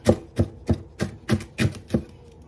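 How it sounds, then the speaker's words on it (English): Seven sharp knife chops through bok choy on a cutting board in a steady, even rhythm, close and crisp, with no talking. "Rough chopping."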